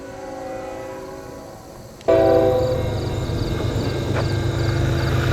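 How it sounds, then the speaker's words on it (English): A CN eastbound train's horn sounds loud and steady with harmonic tones, then the rumble of the passing train swells in beneath it and continues, near Lynden. "I hear a train horn"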